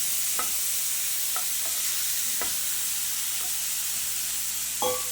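A spiced potato and rice mixture fries in a pan with a steady loud sizzle, broken by a few soft scraping stirs of a spoon.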